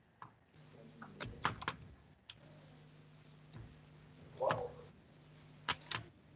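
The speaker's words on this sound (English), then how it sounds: "So let me type my recovery key" Scattered keystrokes on a computer keyboard as a recovery key is typed, a few sharp clicks and small clusters spread irregularly over a low background hum, fairly quiet.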